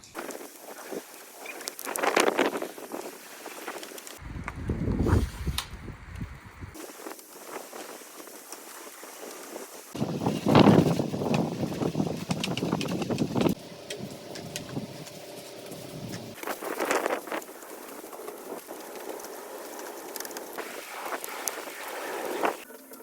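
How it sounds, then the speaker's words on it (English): Strong wind blows outdoors during window cleaning with a water-fed pole, a rough buffeting roar on the microphone that surges and drops in gusts, with patches of quieter hiss and light rain in the air. "It's very windy."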